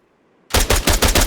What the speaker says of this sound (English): I'm just going to shoot them all